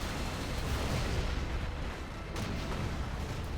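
Artillery fire from battling armies in the strategy game Rise of the Reds booms and rumbles as a dense, continuous barrage of low explosions.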